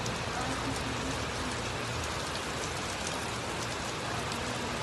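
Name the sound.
heavy rain falling in Brazil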